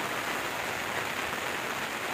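Steady monsoon rain falls in a continuous, even hiss with no distinct drops standing out; it is moderate rather than a downpour, with no talk over it.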